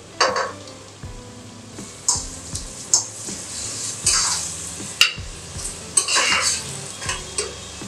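Mutton sambar with Kashmiri red chilli, onion and tomato cooking in a pan, with close, repeated stirring, utensil scrapes and knocks against the pan over a steady low sizzle, no talk.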